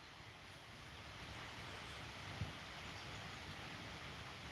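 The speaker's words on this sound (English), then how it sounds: "The sound you can hear is a waterfall at the back." A small waterfall runs somewhere behind a small woodland, a faint, steady, even wash of falling water with one brief low knock near the middle.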